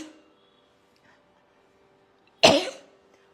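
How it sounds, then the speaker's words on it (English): A single sharp, loud cough bursts out partway through, set apart by near silence on either side, from a person working on voice production technique. "I'm coughing, yes."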